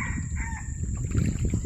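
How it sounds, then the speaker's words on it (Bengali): A wild jungle fowl rooster crows close by in the Sundarbans forest, a single drawn-out crowing call at the start against a low rumbling background, with no talk. "তা যেতে যেতে কিন্তু একটা মোরগের ডাক একেবারে কাছে শোনা যাচ্ছে, বন মোরগ।"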